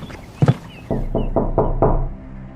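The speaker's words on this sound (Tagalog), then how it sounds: "Papasok na sana ako sa kwarto nang biglang merong kumatok." Knocking on a door comes as a story sound effect: a quick double knock, then four evenly spaced, louder knocks, close and alone.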